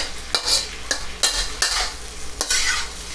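Steak and udon sizzle loudly in a hot pan as sauce goes in, with bursts of frying hiss and the scrape of stirring repeating every half second or so, no voices.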